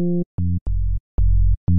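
A synthesized FM bass patch from a Serum wavetable built on a harmonic series, played as five separate sustained notes with short gaps, loud and alone with no talk.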